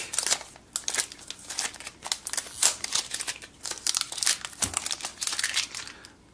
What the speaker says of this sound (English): I'm going to go ahead and peel off all this plastic.